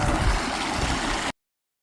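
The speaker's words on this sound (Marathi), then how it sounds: "बघा आता इथे पाण्याचा प्रवाह जरा जास्तच आहे" Water rushing strongly through a channel in a rice field, a loud, close, continuous gurgling torrent that cuts off abruptly partway through.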